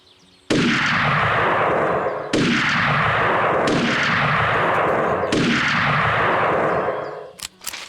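Heavy rifle shots in the hunting game Hunting Unlimited 2010, four loud booming reports spaced a second or two apart, each with a long rolling echo tail, with no talk over them.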